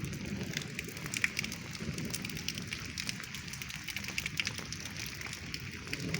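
Steady rain patters across a hard rooftop with solar panels nearby, a continuous crackling hiss with scattered sharper drops, no voices.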